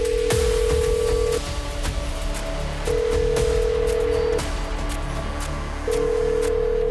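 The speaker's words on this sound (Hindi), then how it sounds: "अरुण ने अपने दोस्त मिट्ठू को फ़ोन किया" Telephone ringback tone as a call is placed: three long, steady ringing pulses separated by pauses, clear and fairly quiet, with no voices.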